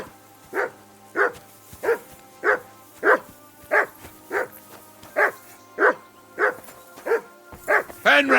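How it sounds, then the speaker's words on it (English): Dog barking in the video game Kingdom Come Deliverance 2: a steady series of about thirteen evenly spaced, loud barks close by, with no talk. "That barking was a pain in the ass."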